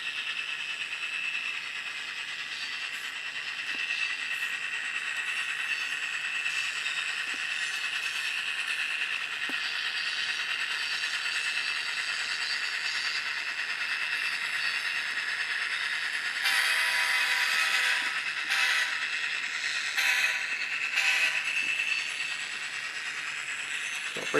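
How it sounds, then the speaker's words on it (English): A steady high-pitched squeal from the wheels of an N scale Atlas CN GP40-2W model locomotive runs throughout at moderate level, growing harsher and louder for a few seconds near the end. "you can hear a bit of the wheel squeal going on in the back there"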